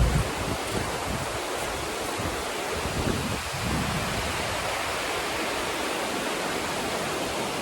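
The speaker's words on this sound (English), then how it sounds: "So, take a look at this waterfall." Waterfall along the Appalachian Trail in sleety, muddy conditions: a dense, steady roar of falling water that is loud and continuous, with no voices over it.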